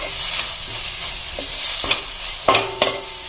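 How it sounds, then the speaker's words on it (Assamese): Turmeric and greens fry in a wok with a soft continuous sizzle, broken by several sharp scrapes and taps of a spatula stirring the pan, loudest near the end. "মই এখনি ভালকে ভাজি লম"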